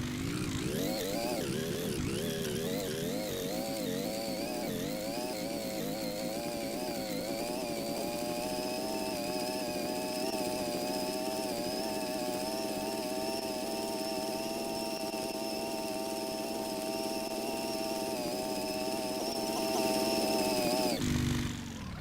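An inline engine drives a tracked vehicle in the Gearblocks video game, revving up and down at first, then settling into a steady, loud buzzing drone before cutting off abruptly near the end.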